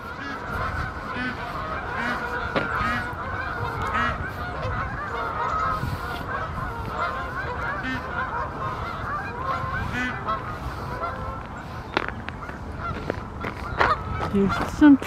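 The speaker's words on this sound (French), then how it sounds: "il y a toute une colonie d'oies" A colony of geese honks continuously in the snowy Bois de Vincennes, Paris, a dense overlapping chorus of calls at moderate distance with a few nearer, louder honks toward the end.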